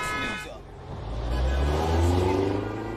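A car horn honks in a video game driving scene, a short toot at the start followed by a rising, revving engine that grows louder and holds steady.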